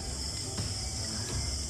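Insects chirping in a steady high-pitched drone, constant and fairly close, with faint low rumbles beneath and no voices.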